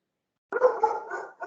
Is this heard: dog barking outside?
yes